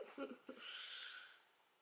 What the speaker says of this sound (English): Oh, big yawn.